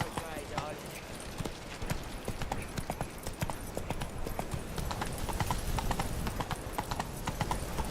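Horse hooves clip-clop steadily in The Witcher 3 video game, a continuous rhythmic gait under a busy game soundscape with a voice and occasional whinnies.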